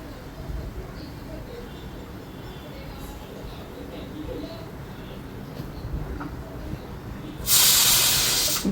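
A pressure cooker of dal on a gas stove sits under a steady low background, then releases a loud, sustained rush of hissing steam for its final second.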